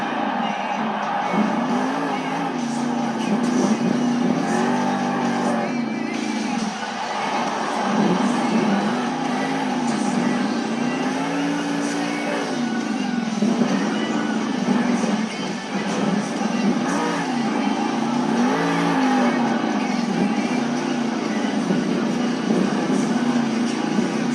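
Monster trucks roar in a Monster Jam arena show in Portland, Oregon, their engines surging and easing in waves for the whole stretch under a dense wash of crowd noise and an announcer's voice.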